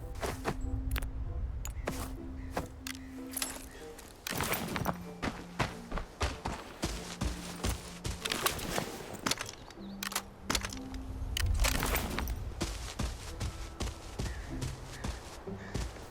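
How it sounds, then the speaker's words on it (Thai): Footsteps of another player in the video game Arena Breakout, a run of quick, repeated steps with a clip-clop rhythm, fairly close and steady through the whole stretch. "มีเสียงเท้าอยู่ข้างหน้านะ แล้วเหมือนว่าจะเป็นคนด้วยครับ"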